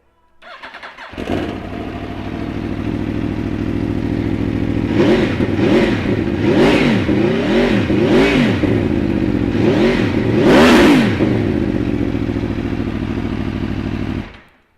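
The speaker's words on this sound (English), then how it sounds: "V4 engine just sounds absolutely magnificent on these." A 2015 Aprilia Tuono V4 1100 Factory motorcycle's V4 engine cranks and catches, then settles into a loud idle broken by a series of sharp blips of the throttle. The engine is close and heard alone.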